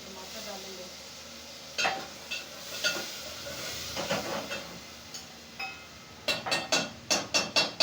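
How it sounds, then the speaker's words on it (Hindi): Fresh tomatoes tumble into a hot cooking pot of frying masala, setting off a steady sizzling hiss that flares in bursts, then a quick run of sharp crackling pops near the end. "साथ में ये टमाटर डालेंगे"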